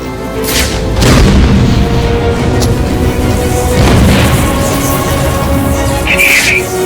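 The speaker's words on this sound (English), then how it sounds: "Grenade!" A grenade explodes in the Batman Arkham City video game: a loud, close boom that rolls on, then a second heavy blast a few seconds later, over a continuous dense game soundscape.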